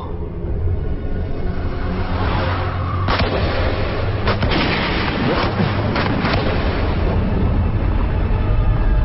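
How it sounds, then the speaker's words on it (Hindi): Gunfire in an animated cartoon, several sharp shots and booms scattered over a dense, rumbling action soundtrack. "गोली मत चलाओ"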